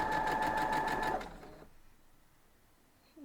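A sewing machine stitching a birds-in-the-air quilt block runs in a steady, loud, close whirring burst for about a second, then stops and leaves a quiet pause.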